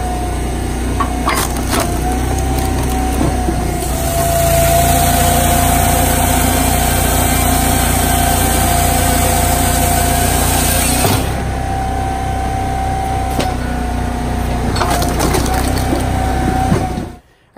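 Firewood processor chain saw cutting through a log, a loud steady engine roar with a chain buzz that builds, holds through the cut, then drops off as the engine keeps running before stopping at the end.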